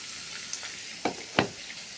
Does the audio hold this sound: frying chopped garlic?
yes